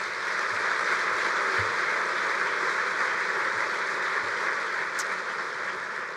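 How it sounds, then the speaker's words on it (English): A convention audience at a bowling association meeting gives a sustained round of applause for an 87-year-old bowler, an even, distant wash of clapping throughout. "Please give Bill another round of applause"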